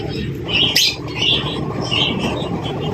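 A trained pet bird calls with a few bright, chirpy bursts and squawks over steady background noise, close to the microphone.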